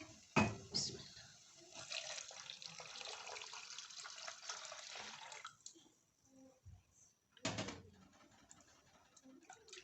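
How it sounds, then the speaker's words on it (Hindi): Milk being poured into caramel tea in a pan, a continuous close splashing pour lasting several seconds with a couple of sharp knocks, then quieter bubbling. "और अब हम इसमें दूध शामिल करेंगे"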